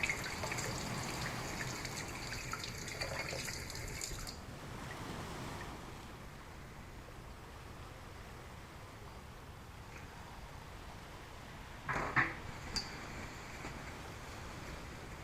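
A seashell rinsed under running water after a bleach cleaning: a steady rush of water for about four seconds, then a quieter wash with a brief splash near the end.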